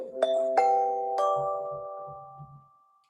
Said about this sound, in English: Someone nice has got a ding dong bell.